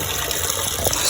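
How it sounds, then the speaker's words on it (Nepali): Spring water runs steadily from a village tap, a continuous close splashing gush with no voices. "बोतल सोतलको तिर्नुभन्दा यहाँ हाम्रो धारै छ कि"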